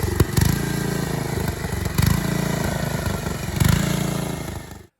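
Engine of an old Howard machine running with a sticky governor, chugging steadily up close with periodic surges in loudness roughly every second and a half, no talking.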